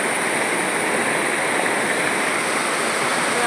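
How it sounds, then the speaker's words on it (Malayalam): Water pours down a small waterfall in a constant, dense rush that stays even and close from start to finish, with no voices. "ഈ ഒരു വെള്ളം വീഴുന്നത് കാണാനുണ്ടോ"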